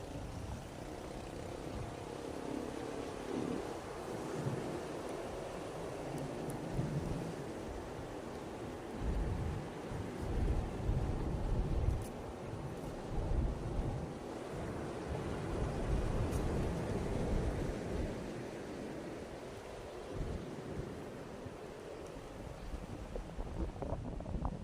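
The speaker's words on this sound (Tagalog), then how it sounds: "Lakas ng alon." Strong ocean waves pound the shore beside seaside houses while gusting wind buffets the microphone, a continuous loud rumbling wash with surging swells and no talking.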